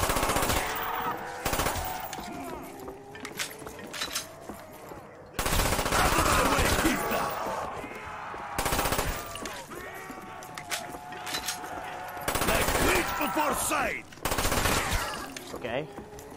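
Video game gunfire while fighting zombies: rapid automatic bursts come in several loud blocks separated by short gaps. A player talks between the bursts.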